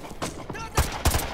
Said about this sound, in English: Stop shooting the FAL!